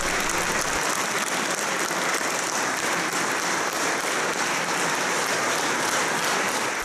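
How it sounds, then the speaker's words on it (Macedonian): Loud, sustained audience applause fills a concert hall after a cathedral choir's performance in Slovakia, with dense steady clapping throughout and no speech. "Снимката од громогласниот аплауз на публиката кажува се"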